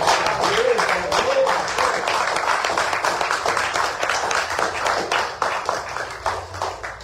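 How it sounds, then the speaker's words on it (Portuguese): A congregation claps together at the close of an evangelical church service, a dense, steady stream of hand claps lasting throughout with voices mixed in. "a palavra está encerrada e as palmas para o Senhor Jesus"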